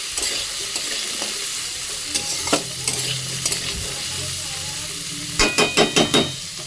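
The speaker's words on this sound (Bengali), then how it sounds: "পেঁপেটা চাপিয়ে দিয়েছি সর্ষে ফোড়ন দিয়ে একটু নাড়াচাড়া করে নেবো" Papaya fries in a pan with a mustard-seed tempering, a continuous close sizzle under intermittent stirring, ending in a quick run of sharp spoon-on-pan scrapes and taps.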